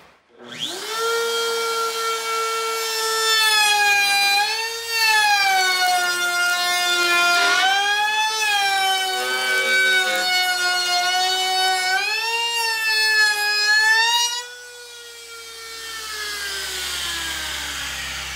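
A wood router spins up and cuts a profile, a loud high-pitched whine that rises and dips in pitch as it bites into the wood, then winds down near the end.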